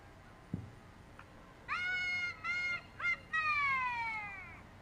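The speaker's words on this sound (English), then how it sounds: "that's a siren I've never heard before" A Crooked Creek Fire Department truck in a Christmas parade sounds an unusual siren: four loud, whining, horn-like wails that start high and glide downward, separated by brief gaps, with no voices.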